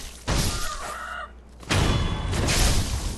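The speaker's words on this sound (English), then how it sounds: "Oh no, another chicken." Chicken in the video game Sekiro: Shadows Die Twice clucking and squawking loudly in two bursts over constant game background noise, with a brief dip between them.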